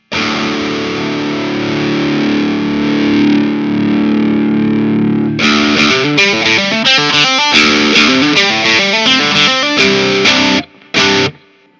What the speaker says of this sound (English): I'll just strum like a low chord and then pull that up